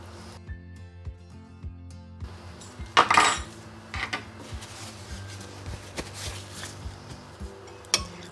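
A spoon clinks and scrapes against a bowl in irregular strokes, stirring a red fish salad with sauce and lemon juice, with a brief louder rattle partway through; close and fairly quiet, no talking.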